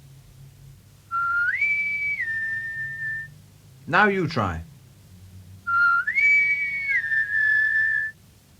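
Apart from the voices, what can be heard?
human whistling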